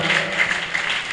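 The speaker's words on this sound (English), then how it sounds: "So, another round of applause for her. Make it louder now." An audience at a youth leadership training event breaks into a brief burst of dense, even applause, heard close and loud for about a second with no speech over it.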